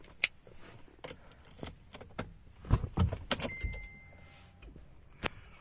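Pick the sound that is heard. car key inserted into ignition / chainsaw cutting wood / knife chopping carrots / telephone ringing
car key inserted into ignition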